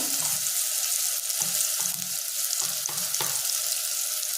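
Chana aamti ingredients dry-roasting in a pan, a steady broadband sizzle with repeated stirring scrapes every half second or so, close and continuous, no talking.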